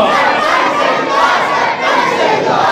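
A large crowd at a religious gathering roars a slogan back in unison, a loud sustained massed shout filling the space with no pauses.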